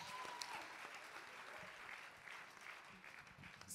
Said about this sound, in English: Let's clap for her for that.